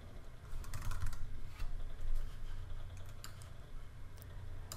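Quiet, rapid clicking of a computer keyboard being typed on, short bursts of keystrokes close by against a low background hum.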